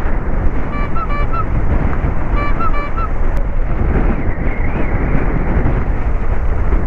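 Strong wind buffets the microphone in a steady, loud rumble during a motorcycle ride, with faint horn-like tones briefly audible early on.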